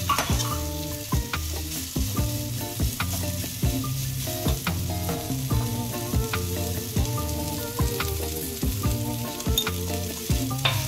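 Ridge gourd peel roasting in a pan for tambuli, a continuous soft sizzle with light stirring under steady rhythmic background music.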